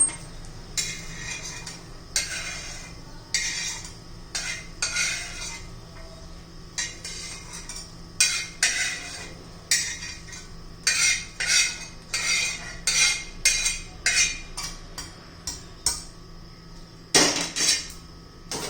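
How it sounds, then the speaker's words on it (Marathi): Green chillies struck in a stone mortar and pestle from Kolhapur while making a thecha, a run of sharp clinking blows in an irregular rhythm, close and fairly loud with brief pauses, no voices. "मी हा दगडी खलबत्ता कोल्हापूरवरून आणलेला आहे"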